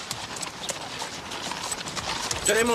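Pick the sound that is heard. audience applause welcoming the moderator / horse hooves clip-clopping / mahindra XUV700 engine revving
horse hooves clip-clopping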